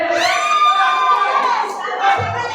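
A crowd at a rap battle in Club Azure shouts and cheers together: a loud, sustained roar of voices with a brief dip near the end before it rises again.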